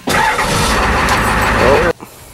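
A diesel truck with a manual transmission cranks and its engine catches, a loud, close rumbling start that runs for about two seconds before cutting off abruptly into quiet.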